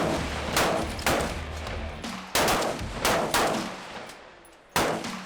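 Rifle shots at a hunting training range in Alaska during preparation for a bear hunt: about seven sharp, loud cracks with short echoing tails, spaced irregularly, no speech.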